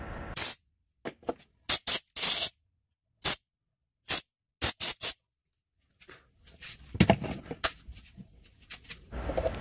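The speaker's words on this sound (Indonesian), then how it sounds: "Semprot dulu biar bersih, baru kita coba." Short bursts of spray cleaner onto a freshly tapped paintball PCP tank pipe thread, loud close sharp hisses in a quick irregular series, followed by fainter handling noises.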